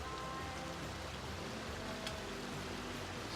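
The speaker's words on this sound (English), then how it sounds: "Some decent water flow here." Buck Creek flowing beneath a footbridge in a Sierra canyon, a steady broadband rushing wash, faint and continuous with no voices.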